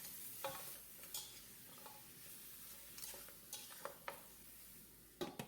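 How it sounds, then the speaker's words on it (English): Meat for pepper-pot sautés in a pot with a soft, continuous sizzle, broken by scattered clinks and scrapes of a utensil stirring against the pot. The sound is quiet and close, with no talking. "Add our meat and let this saute for a couple of minutes."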